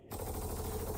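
The old PA SMG submachine gun fires in Star Citizen as a short, steady burst of rapid shots. It starts abruptly after a brief silence and stays loud and sustained to the end.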